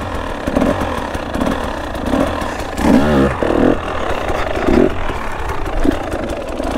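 A KTM 300 two-stroke dirt bike doing circle wheelies, its engine droning steadily with rising revs and surges, fairly close and continuous throughout.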